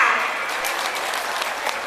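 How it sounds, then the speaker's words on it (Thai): An audience claps steadily after a stage performance at a hospital retirement celebration in Thailand, dense continuous applause filling the space at a loud, even level without pause. "ขอเสียงปรบมือให้กับการแสดงของชุดสตอเมืองอีกครั้งหนึงค่ะ"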